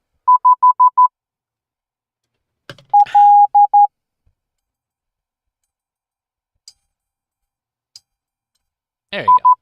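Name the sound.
Morse code (CW) tones from a WiFi Morse kit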